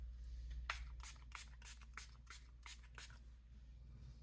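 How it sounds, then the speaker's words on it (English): Curst Kosmetics Slay All Day setting spray misted from its bottle in a run of about eight quick, evenly spaced hissing pumps, close and fairly quiet over a low steady background hum. "the only thing that I'm going to use as a setting spray is the Slay All Day"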